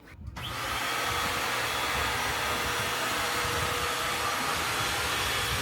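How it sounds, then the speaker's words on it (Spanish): A vacuum cleaner running in a very small room switches on with a brief clunk and then holds a loud, steady whirring drone throughout. "Hay que aspirar todos los días porque al final estamos en una habitación muy pequeña"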